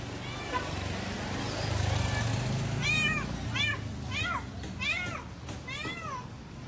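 A cat meows repeatedly, several rising-and-falling cries close by, with low background rumble and some faint talk.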